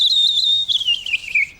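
Whistled imitation of a skylark's song made while breathing out: a continuous, warbling high-pitched trill of rapid wavering notes lasting over a second, close and clear with no talk.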